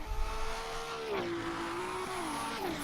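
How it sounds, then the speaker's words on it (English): Race cars at the Nurburgring in a Group 5 DRM 70s/80s championship round run at high revs, a sustained engine whine wavering and dipping as they bang against the limiter, moderately loud and steady with no voices. "I always cringe when I hear the cars banging off the limiter there."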